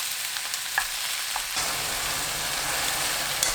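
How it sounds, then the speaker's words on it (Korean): Thin-sliced beef brisket stir-fried over high heat with garlic and onion, a steady close sizzle with a few spatula clicks, the frying growing louder partway through, no voices. "우삼겹 넣고 고기가 완전히 익을 때까지 볶아주세요."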